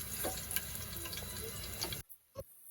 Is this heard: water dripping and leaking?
yes